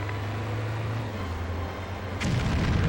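Near the end, a PlayStation 2 Stuntman explosion booms suddenly after a steady low engine hum, a single sharp blast that swells into sustained rumbling noise.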